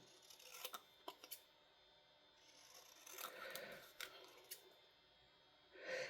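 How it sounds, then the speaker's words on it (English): Scissors cut close around a shape in paper during a crafting session, making faint, quiet snips in a short cluster followed by soft rustling and sliding sounds, with no talking. "Now I'm going to take my scissors and cut close to it."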